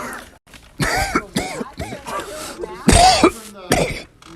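Several people cough and clear their throats in rough overlapping bursts from car exhaust fumes, close and loud, mixed with some brief voices.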